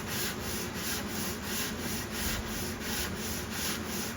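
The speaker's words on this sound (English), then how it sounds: "Thank goodness it's mahogany. It sands really nice." Sanding the mahogany heel of a pine-bodied guitar, a loud close rasping scrub repeating in quick regular strokes without pause.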